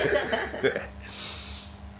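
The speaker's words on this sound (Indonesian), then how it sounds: "Saya juga dari kemarin udah batuk Mas ini." A single person's cough, a short burst of two or three harsh hacks close to the microphone, followed by a brief breathy noise and then quiet.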